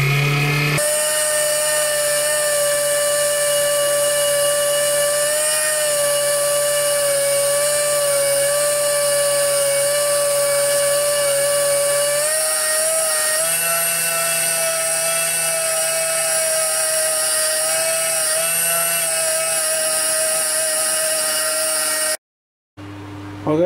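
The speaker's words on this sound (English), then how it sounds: "Just going to buff it up now" Power buffing wax on a finished wooden bowl, a loud, steady high-pitched motor whine with a shifting tonal hum that runs continuously for over twenty seconds and cuts off abruptly near the end.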